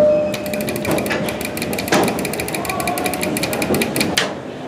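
Mechanical clattering and clicking from an Otis Series 1 hydraulic elevator door mechanism in a furniture store, with steady ratcheting ticks and a few heavier thuds as the door slides shut nearby.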